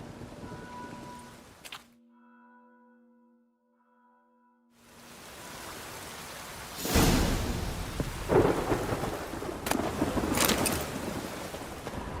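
Thunderstorm in the video game The Witcher 3: a low rumble fades into near silence with a faint tone, then steady rain rises and heavy thunder cracks and rolls in loud bursts over the downpour.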